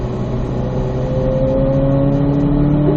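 A race car accelerates out of a corner on a track, its engine note climbing steadily in a smooth, continuous rev that stays close and loud throughout.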